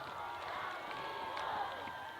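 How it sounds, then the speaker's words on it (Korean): A crowd welcomes a singer at the Dangjin citizens' sports festival with cheering and applause, a dense, steady wash of audience noise that holds at an even level throughout. "박수로 환영해 주세요"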